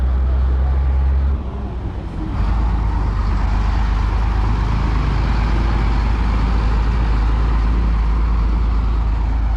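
A gravel-hauling truck rumbles past on a dusty site, its loud, steady low engine drone holding throughout with a brief dip partway before it swells again.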